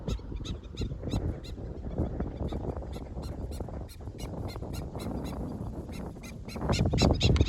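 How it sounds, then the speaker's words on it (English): A black-necked stilt calls over open water at Lake Okeechobee, Florida, in summer, giving a steady run of sharp, repeated yapping notes that carry loud and close throughout, with low wind noise underneath. "I meant to say blackneck stilt."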